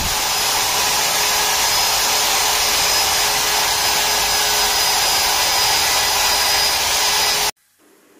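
A mixer machine churns bathroom waterproofing compound with a steady, loud, unbroken whine that cuts off abruptly near the end, leaving near silence.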